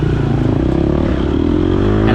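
An off-road motorcycle engine revving loud and close during a race, a steady, throaty drone that swells slightly toward the end with faint mechanical clatter.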